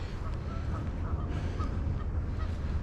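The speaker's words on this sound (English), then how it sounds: "You hear the geese?" Geese honk faintly and intermittently in the distance along a wooded nature trail at an Ohio metro park, over steady wind and outdoor rumble.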